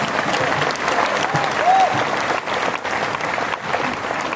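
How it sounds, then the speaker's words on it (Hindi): Sustained audience applause at a Hindi poetry gathering in Udaipur, dense and steady throughout, a crowd clapping loudly without pause. "हिंदी कविता के इस संवाहक के लिए एक बार जोरदार तालियां बजाइए"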